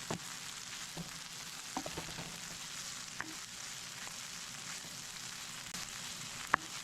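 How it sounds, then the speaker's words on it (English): Green pepper and onions frying in a pan, with a steady, quiet sizzle throughout and a few faint clicks of stirring, with no talking. "Put the green pepper and onions in. Let them cook in."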